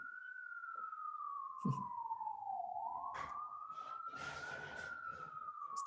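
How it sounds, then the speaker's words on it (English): A wailing police siren rises and falls steadily in the distance outside, with brief bursts of street noise and traffic beneath it. "the sirens facing the street is not cute"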